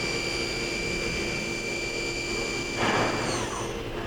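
The sub spindle of a Kia SKT-15LMS CNC turning center runs at speed with a steady high whine and hum, then a brief surge of rushing noise as it spins up to 3000 RPM, close and with no talk.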